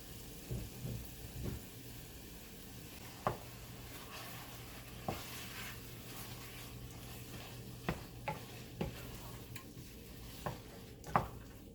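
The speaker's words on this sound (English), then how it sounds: "our meat has been searing now" Beef sears in a pot for a tomato-based stew, giving a soft steady sizzle under occasional sharp scrapes and clinks of a utensil against the pot, quiet and close with no voices.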